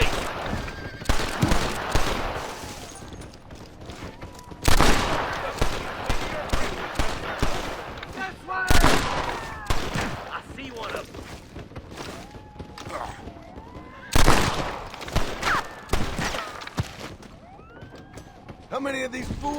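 Gunfire in the Red Dead Redemption video game: repeated sharp shots in several bursts, with loud blasts near 5, 9 and 14 seconds, mixed with game effects and someone talking over the action.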